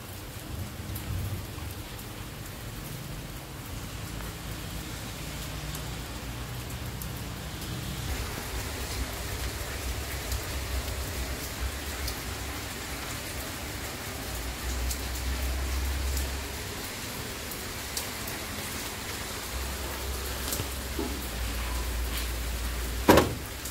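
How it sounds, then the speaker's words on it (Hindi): Heavy rain pours down in Bhubaneswar, a dense, constant roar of drops on surfaces with low rumbling underneath, sustained and close for over twenty seconds, no voices. "प्रबल वर्षा"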